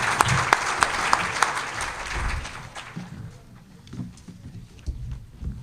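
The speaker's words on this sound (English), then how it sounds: "Let's give him a round of applause." Audience applause after a panel Q&A session, a loud dense burst of clapping that fades out over the second half, leaving quieter room noise and low rumble.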